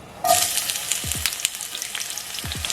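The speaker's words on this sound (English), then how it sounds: "Now we're gonna add a half a cup of oil to the skillet. Let that heat up. Add your onions." Onions dropped into hot oil in a skillet set off a sudden loud, close sizzle that holds steady as a bright crackling hiss, with a few clinks of a utensil beneath, and no voices.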